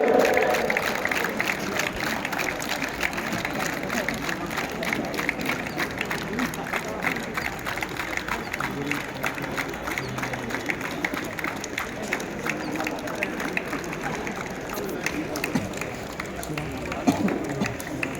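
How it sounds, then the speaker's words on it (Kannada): Children at a school sports event clapping together, a long steady wash of crowd applause with faint chatter, sustained at an even level for the whole stretch with a voice heard briefly at the start. "ಬನ್ನಿ ಜೋರು ಚಪ್ಪಾಳೆ"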